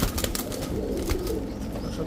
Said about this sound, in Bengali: ছাড়াছাড়ি লাইনের এক জোড়া বাবরা কবুতর দেখেন